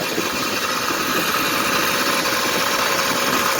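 Small gas engine of a motorized bicycle runs steadily while the bike is ridden down a road at slow speed, a constant loud droning rumble with broadband vibration and no pauses.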